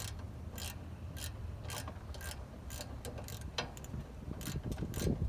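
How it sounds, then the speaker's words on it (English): A hand ratchet tightens bolts on the guide rollers of a Timberking 1220 sawmill, giving short, close bursts of rapid clicking in uneven strokes at fairly low volume, with no talk. "if I had like a low profile ratchet, I could get in there easier"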